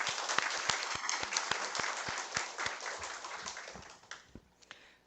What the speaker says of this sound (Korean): 박수 한번 다시 한번 부탁드립니다